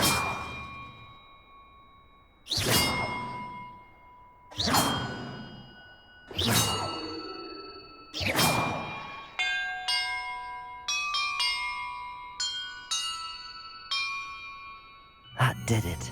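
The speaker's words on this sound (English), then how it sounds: "Perhaps the map contains clues about the order I'm supposed to ring the bells in" Bells rung one after another in the Hogwarts Legacy video game, five loud single clangs spaced about two seconds apart, each ringing out and decaying, then a quicker run of lighter chimes and one final strike.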